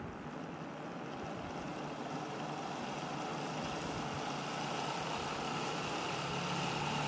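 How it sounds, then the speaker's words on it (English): A three-stage BLDC motor runs on its second winding at 12 volts, giving off a steady, faint, broadband whirring hum that holds constant throughout with no voices. "Now I am going to test the motor with the second winding."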